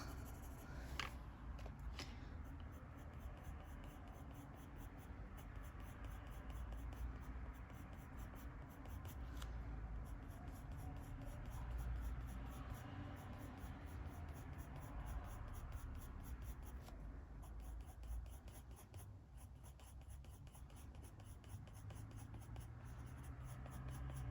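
Coloured pencil, a petrol grey shade, rubbing steadily across paper in close, quiet, continuous scratchy strokes with brief pauses, no voices over it.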